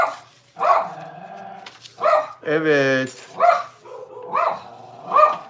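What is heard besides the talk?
dog barking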